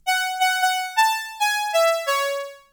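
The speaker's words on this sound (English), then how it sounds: "we got these two oscillators which just sound like this" Two stacked synth oscillators in a VST plugin, with the filter and noise switched off, play a bright buzzy sequence of about eight sustained notes that step through a short melodic line, loud and alone.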